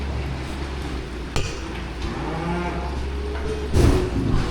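A cow moos in a barn, low and drawn out, over steady background noise, with a sharp metallic clank and some bumping around it.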